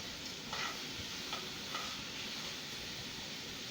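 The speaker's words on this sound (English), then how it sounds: "It don't take long for bratwurst to cook when it's all chopped up like that." Chopped frozen bratwurst fries in a skillet with a dense, continuous sizzle and hiss, steady and fairly close, with faint stirring and scraping touches.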